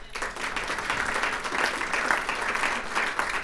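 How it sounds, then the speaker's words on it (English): An audience at a State of the State address breaks into sustained applause, a dense steady wash of clapping from a large crowd that holds for several seconds. "That deserves a round of applause."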